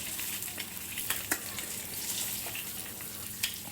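Fish pieces, rubbed with salt and turmeric, fry lightly in oil for a Bengali potol-alu fish curry, giving a steady soft sizzle with a few brief crackles and pops, close and quiet, no voices.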